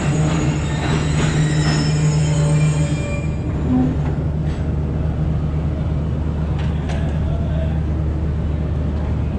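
The Pakistan Express 45UP rolls into Chak Jhumra station, a steady rumble of wheels and carriages with a long squeal, loud and close, with people's voices mixed in.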